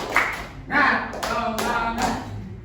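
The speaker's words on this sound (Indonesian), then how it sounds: "Tepuk semangat." A group of schoolchildren claps a rhythmic spirit clap during a physical fitness lesson, with several quick claps in a row and voices talking over them.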